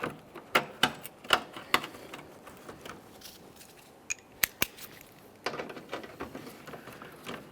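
Bolts for the bumper brackets on a 2015-2020 Ford F-150 are started by hand, giving sharp metallic clicks and ratcheting taps in uneven bursts, close to the microphone, with short pauses between them.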